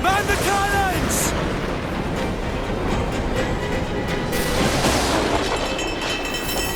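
Ship cannons fire during a naval battle in Assassin's Creed Black Flag, giving heavy rumbling booms over constant roaring wind and sea noise, with a short shout near the start.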